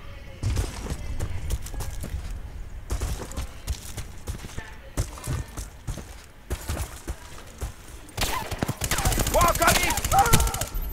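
Rapid machine-gun bursts and gunfire from the video game Battlefield: Bad Company crackle in repeated clusters, growing denser toward the end, with people talking over the shooting.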